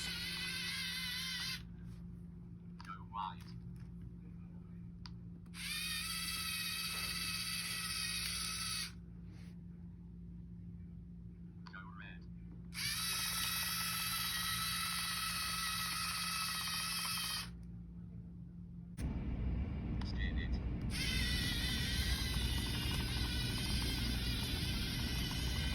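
Small robot motors whine steadily in several separate runs, each stopping once a colour sensor detects red or white, with short pauses between the bursts and a louder, rougher drive near the end; no one speaks.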